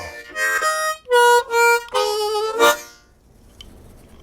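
Slow blues harmonica lick on a harp, a few sustained bent notes and short phrases played alone, clear and close, fading to near silence at the end.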